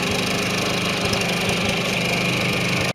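A Champion portable generator engine idling low, heard from about 15 feet away as a steady, loud, continuous drone with a rhythmic low chug and no talking.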